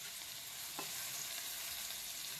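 Onions frying in a pan and being stirred with a small spatula, a steady soft sizzle with a brief scrape partway through, faint and with no talking.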